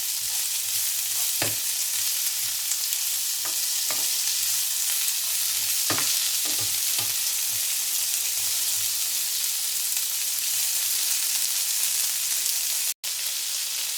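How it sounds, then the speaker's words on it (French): Onions and bell pepper fry in a pan with a steady, bright sizzle throughout, broken by several distinct scraping knocks as a utensil stirs them, briefly cutting out near the end. "Et je vais ajouter le poivron. Et je mélange à nouveau."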